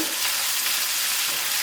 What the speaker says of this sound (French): Je mets mes oignons dedans maintenant.